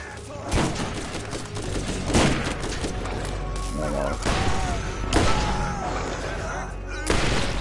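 Explosions and gunfire in the video game Borderlands, dense booms and rattling shots filling the clip in a continuous loud barrage with several heavier blasts rising above it.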